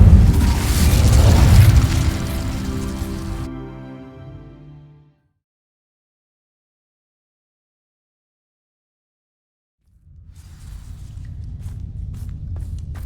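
Incendio fire spell igniting dry vines in Hogwarts Legacy, a loud burst with a booming low rumble that decays over a few seconds, then silence before a steady crackling burn returns.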